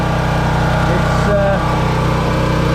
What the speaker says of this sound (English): The generator's a bit noisy.